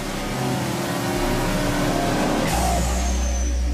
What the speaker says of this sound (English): The engine fatigue test runs the engine for over an hour at full throttle.